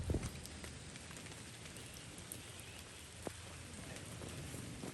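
Steady rain falls on a muddy trail during a 100-mile race, a continuous dense hiss of drops with a soft thump near the start and one louder drip later, no voices.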